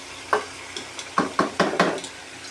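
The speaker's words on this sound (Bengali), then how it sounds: "একবার উঠে নিচ্ছি, আপনার একটু ঢাকনাটা উঠায় এরপর একটু নাড়াচাড়া করে দিচ্ছি।" A utensil stirs broiler chicken curry in a pan, scraping and knocking in a quick uneven run of six or so strikes over a faint sizzle, close by with no voices.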